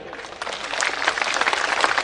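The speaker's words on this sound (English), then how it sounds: "so a big round of applause for Maitai group Delhi." Steady applause from a crowd at a memorial function in Delhi, dense clapping that swells slightly and holds without pause for a couple of seconds.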